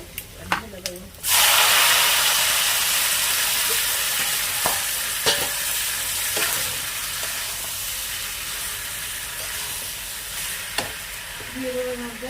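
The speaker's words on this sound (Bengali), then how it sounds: "এই যে রসুনটা লাল করে ভাজা হয়ে গেছে, ঢেলে দেবো" Red-fried garlic hits cooked rice with a sudden loud sizzle that settles into a steady hiss, with scattered clinks and scrapes of stirring throughout and a brief voice near the end.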